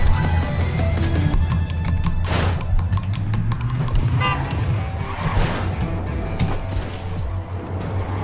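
Trucks in the video game ClusterTruck rumble and clank as they race and collide, with rattling mechanical impacts and creaks over a continuous low engine drone.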